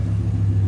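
Steady low engine rumble from several Audi cars starting up and idling, a deep continuous drone with a slight pulsing throb, fairly loud and close.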